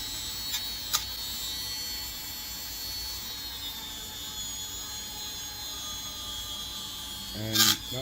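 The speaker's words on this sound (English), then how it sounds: "Sounds like this buffing pad's are at its end" A worn-out buffing pad polishes the frets of a Gazzbass Falcon Series II bass guitar at a luthier's bench, giving a steady, soft, close whirring rasp with a brief louder scuff near the end.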